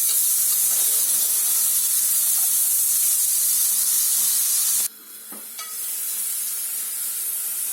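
Onions and green peppers sautéing in oil in a pan, a continuous close hiss of frying that drops away abruptly near the end, then returns more softly after a brief clatter.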